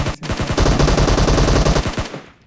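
Rapid automatic gunfire from a shooting video game, a dense loud burst of repeated shots lasting about two seconds, then trailing off, with no talking.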